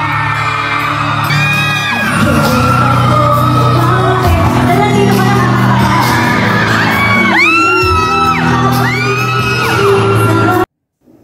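Fans at a media fan con screaming nonstop, a loud dense crowd of shrieks and whoops rising in waves over singing, cutting off abruptly at the end.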